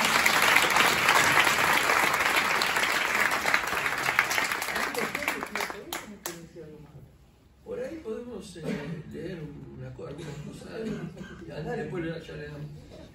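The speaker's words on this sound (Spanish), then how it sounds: "Esa es la parte que tiene que aplaudir" An audience at a book presentation breaks into loud applause that fades out after about six seconds, then someone speaks alone.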